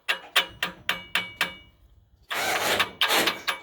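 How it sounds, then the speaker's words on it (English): Sharp metallic taps on a sticking EGR valve of a Duramax LML diesel, about seven quick evenly spaced knocks, close and loud, then a short pause followed by a dense rattle and more taps. "I'm going to tap the EGR valve."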